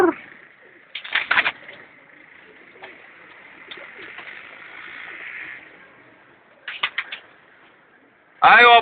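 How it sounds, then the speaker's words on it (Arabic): Egyptian pigeons coo softly over a steady hum, broken by a few sharp fluttering bursts and a loud flurry at the end. "ده حمام متكلف"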